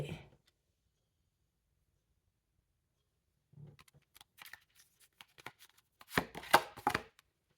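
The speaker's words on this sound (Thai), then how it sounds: "ขอขยับไพ่นิดนึง" Tarot cards are shifted and shuffled on a table during a reading, giving a short burst of dry papery clicks and slides near the end, preceded by a faint soft rustle and long quiet stretches.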